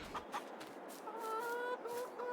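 Chickens clucking in the video game Farming Simulator 22 on a farm, soft short clucks and calls at moderate distance with a faint tonal hum beneath.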